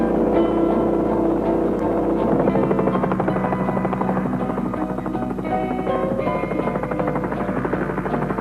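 A helicopter flies steadily and loudly, its rotor chopping in a continuous buzzing drone with a constant low hum throughout, and no voices are heard.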